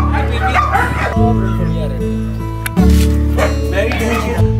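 A dog gives yipping barks and whimpers several times, loud and close, over a constant background drone.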